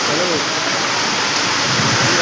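Heavy rain pouring steadily in Garia, Kolkata, a loud continuous hiss close by that never lets up, with faint voices barely showing under the downpour.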